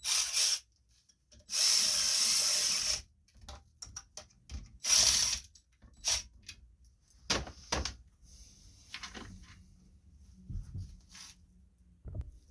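Bolts being tightened on a Wayne electric shallow-well water pump, with loud bursts of ratcheting and tool clatter followed by scattered metallic clicks and taps, no talk.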